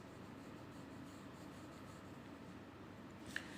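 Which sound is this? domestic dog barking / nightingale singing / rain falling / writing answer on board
writing answer on board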